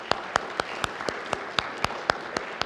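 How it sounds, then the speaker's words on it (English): A church congregation claps in a steady, evenly spaced rhythm, with individual sharp claps standing out against a quiet room. "Let's just give them a round of applause."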